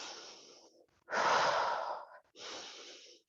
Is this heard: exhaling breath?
yes